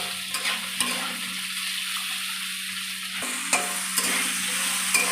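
Papad frying in a pan for a vegetarian papad curry, with a steady crackling sizzle and short scraping stirs of a spatula through the hot oil, plus a constant low gas-burner hum underneath.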